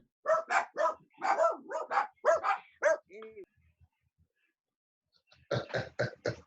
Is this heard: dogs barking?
yes